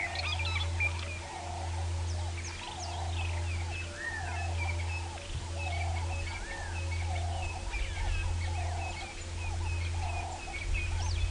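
Cape turtle doves and white-browed scrub robins calling on a winter sunrise safari drive, repeated low cooing phrases in a steady rhythm under scattered higher chirps and whistles, with a constant engine hum beneath.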